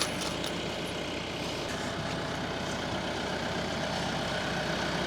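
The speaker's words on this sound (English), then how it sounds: "They're gonna follow this tractor." A tractor engine runs steadily and loud throughout, a continuous low diesel rumble with broadband noise on a farm where cattle follow it, with no speech.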